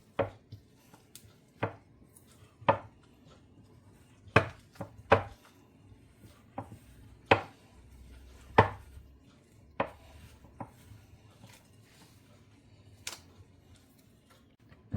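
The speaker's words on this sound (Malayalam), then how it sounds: "കൊക്കോ പൗഡർ ഇട്ട് നന്നായിട്ടൊന്ന് മിക്സ് ചെയ്യാൻ പോവാണ്" Cocoa powder being mixed into a healthy chocolate mixture in a bowl: sharp, irregular knocks and clicks of a utensil against the bowl, spaced a second or two apart over quiet background, with no voices.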